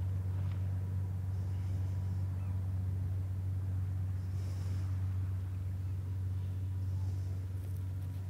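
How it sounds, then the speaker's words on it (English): A boat goes past on nearby water, a steady low engine drone with wind noise running through, faint and continuous from start to finish. "There's a boat going past right now."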